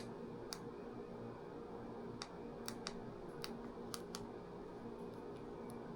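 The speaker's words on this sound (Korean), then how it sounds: "마지막으로 버튼 클릭 형태가 어떻게 되는지 확인해 보겠습니다." The button of a fishing cap light is pressed repeatedly, giving a string of small, sharp, close clicks at irregular intervals over a steady quiet hiss.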